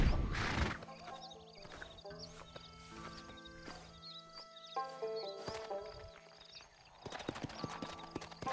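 In the Red Dead Redemption video game, a horse's hooves clop in a steady rhythm while it whinnies and snorts, fairly faint, with brief clattering noises at the start and end.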